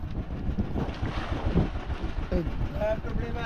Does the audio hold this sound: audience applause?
no